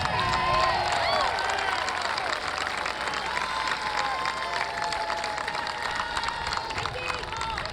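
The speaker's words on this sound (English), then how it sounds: "Join me in a round of applause for your faithful family and friends." Graduation crowd at a high school ceremony applauding family and friends, dense sustained clapping with cheering and shouted voices from a large audience, loud throughout.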